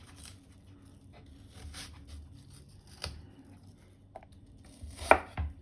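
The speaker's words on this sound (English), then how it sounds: "chop, not too small. You want a few chunks in the apple." Knife chopping a cored, quartered apple into rough chunks on a board, several sharp separate cuts spaced irregularly over low room hum, the last ones loudest and closest.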